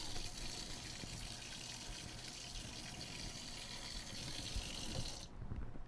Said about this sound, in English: if you want to clean the probe, just simply rinse it off with water